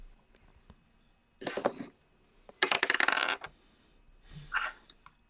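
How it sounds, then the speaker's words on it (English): Dice rattle and clatter in three separate bursts during a tabletop roleplaying game session, each a quick scatter of hard clicks and tumbling, fairly close with quiet pauses between, and no voices. "Okay, to roll the dice."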